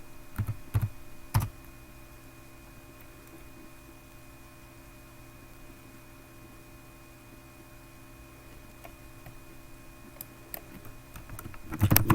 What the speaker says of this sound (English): So I'm going to go on Google and type